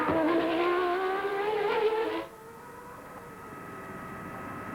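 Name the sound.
Formula One race car engine during practice at Adelaide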